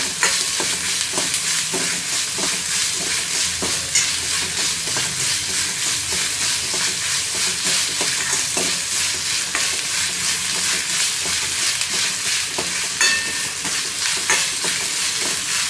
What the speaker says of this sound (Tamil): நல்லா வதங்கணும், பொன்னிறமாக வதங்கணும் வெங்காயம்.